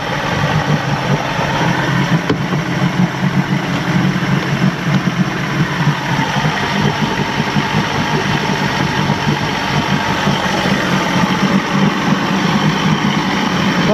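A 1989 Johnson 150hp outboard motor on a McKee Craft boat, suffering a loss of power, idles with a steady low rumbling drone that runs continuously and fairly loud throughout.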